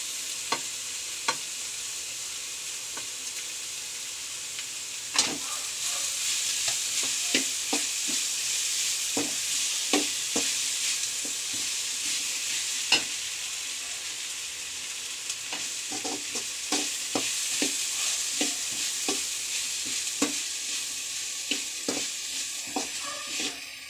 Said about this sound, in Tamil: இப்போது இந்த உருளைக்கிழங்கு பொடிசாக சீவி வச்சுக்கிறத இதில் போட்டுக்கலாம்.